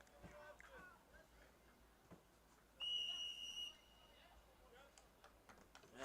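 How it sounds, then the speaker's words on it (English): A referee's whistle at a boys' JV high school soccer match sounds one sharp, loud, sustained blast of just under a second, standing out over quiet crowd chatter and distant voices. "And the whistle is called."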